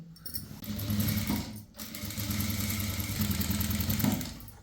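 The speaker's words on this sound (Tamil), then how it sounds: "இந்த மாதிரி ஒரு தையல் போட்டதுக்கப்புறமா இதுக்கு பக்கத்துலேயே 1/4 இன்ச்சுக்கு இன்னொரு தையல் போடணும்." Sewing machine stitching lining onto chudithar cloth, a close, continuous rapid whirring run with a short pause partway through before stitching resumes.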